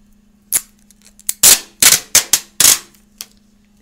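Packing tape torn from its roll in a series of sharp, loud rips, several quick bursts close together and then a final short one, over a faint steady hum.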